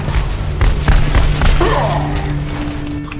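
A turret being destroyed in the Overwatch video game, heard as a loud run of close booming impacts and gunfire-like bursts, followed by a rising synthetic sweep and a sustained electronic tone.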